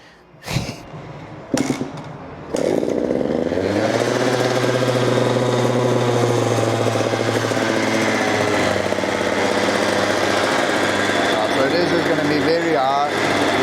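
A KTM SX85 dirt bike in pristine condition takes a couple of sharp kick-start attempts, then fires into a loud, raspy, high two-stroke idle that holds steady and close, slightly elevated while warming up.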